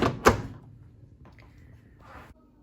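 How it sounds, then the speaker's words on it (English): A plastic drawer is pushed into a Cosori Dual Blaze 6.4L air fryer, making a sharp double knock at the start, then a soft slide and a scraping rattle as it seats. It is close and fairly quiet, with no talking. "So I'm just going to pop the drawer into the air fryer."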